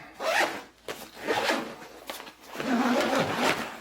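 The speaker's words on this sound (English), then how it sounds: "Zipper is honestly much smoother than I expected it to be." A zipper on a GORUCK Kaidan 18L backpack is pulled in several quick, rasping strokes, close up and clear, with short pauses between each run along the teeth.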